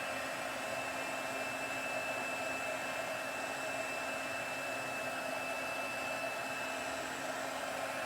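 A handheld heat tool whirs at a constant, steady pitch while heat-setting embossing powder on a papercraft card, with no talk over it.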